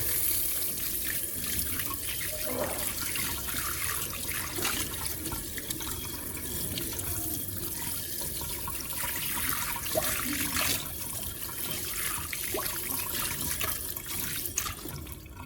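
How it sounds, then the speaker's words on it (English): A steady stream of tap water runs while a bowl cleaned of oil stains is rinsed, a continuous close splashing with occasional brief knocks and changes as the bowl moves under the flow. "Then wash it with water."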